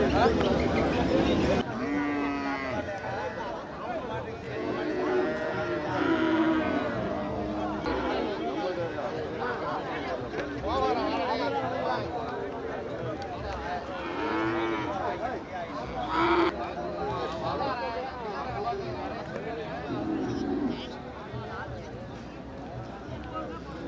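Cattle and bulls at the Manapparai cattle market, with several low moos rising now and then beneath constant loud crowd chatter and talking throughout.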